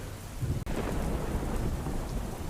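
Heavy downpour lashes Botad town in Saurashtra, a dense, steady roar of rain beating on surfaces with rumbling thunder underneath, loud and continuous with no voices.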